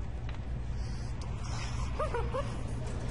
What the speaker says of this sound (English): did I hear the doggy? Do I hear the doggy?